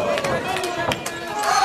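Lively wrestling-event crowd noise fills a short stretch, a constant murmur of cheering and chatter with a few thumping hits.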